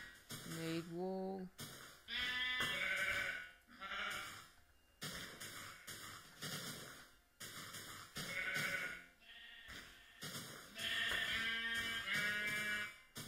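Sheep in the video game Minecraft give a run of loud, wavering bleats, several calls in quick succession with brief gaps between them, close and clear with no talking.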